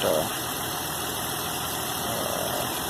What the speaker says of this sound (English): So I started the vehicle also, and I can feel that it's changed.